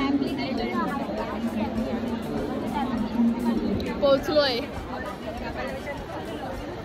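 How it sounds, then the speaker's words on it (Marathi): Dense crowd chatter fills a busy shopping market, a steady babble of many near and distant voices with a few closer speakers rising briefly above the hubbub. "मी बोलते इकडे कायच गर्दी एवढी"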